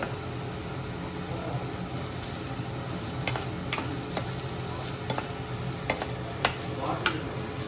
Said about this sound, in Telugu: పన్నీర్ వేసి లైట్గా వేయించుకోవాలి. కొన్ని పీసెస్ వేయించుకొని వేయించుకుంటున్నాను